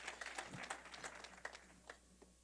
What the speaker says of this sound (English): So let's hear it for everyone here. Another round of applause for making this one of the most amazing events we've ever seen.